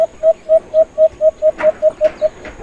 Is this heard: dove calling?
yes